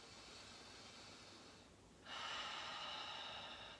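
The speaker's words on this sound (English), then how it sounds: "Big breath in." Deep breath drawn in through the nose during guided yoga meditation, one close, breathy inhale that starts halfway through and continues steadily to the end in a quiet room.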